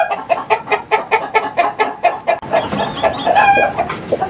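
A broody hen clucks in a rapid, even series of close, loud clucks, then breaks into a longer, louder squawking call near the end.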